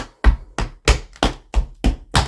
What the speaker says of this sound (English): beware that as you're doing the scuff, heel, dig, toe